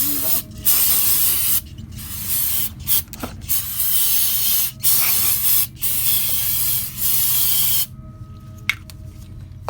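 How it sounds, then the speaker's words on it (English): Brake cleaner sprays onto a dirty brake pad shim in a series of close, hissing aerosol bursts, some short and some longer, separated by brief pauses. "Put some brake clean. See this brake clean?"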